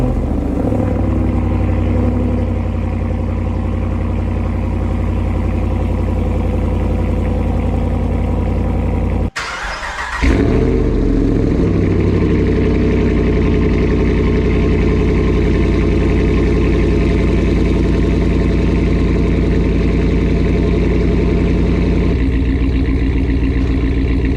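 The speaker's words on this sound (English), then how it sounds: "The exhaust tip gave it a little bit more of an echo, a little bit of a different tone" Ram 1500 pickup truck engine with a black exhaust tip, idling with a steady low rumble, briefly cut off near the middle, then resuming with a slightly shifted tone toward the end.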